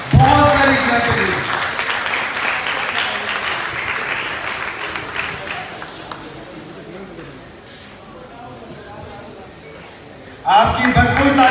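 An audience at a speech competition claps loudly and steadily, the applause fading gradually before a fresh burst of clapping rises near the end.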